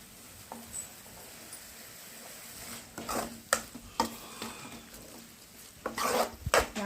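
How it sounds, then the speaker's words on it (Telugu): Fried okra pieces are stirred into masala gravy in a pan, producing intermittent scraping and clinking strokes that grow busier toward the end over a soft background sizzle, with no talking. "ఇంకా బెండకాయ ముక్కలు వేసి వాటిని బాగా కలుపుకోవాలి"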